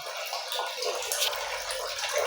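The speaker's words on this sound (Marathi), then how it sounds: "पाणी आले आता इथं भरायला" Water runs into a container at home, a steady close rushing hiss with a faint low gurgle as the level rises, lasting a couple of seconds with no talking.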